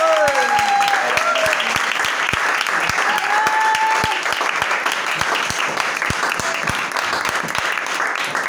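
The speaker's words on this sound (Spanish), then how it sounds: "aplauso." Audience applause fills a venue in Seville after a flamenco dance, continuous clapping with a few sharp, louder individual claps and cheering voices over it.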